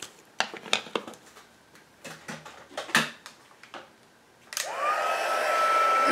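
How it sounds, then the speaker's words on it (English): Craft heat tool for stamping switches on after a few light clicks and taps, then blows a steady loud whooshing stream of hot air close by. "I am going to come in with my heat tool."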